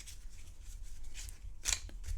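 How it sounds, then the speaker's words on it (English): Cardboard dungeon tiles for the Bag of Dungeon board game are shuffled in a soft, continuous riffling rustle, with a sharper flurry of snaps near the end, close and alone with no voices. "You have all these dungeon tiles here that you shuffle"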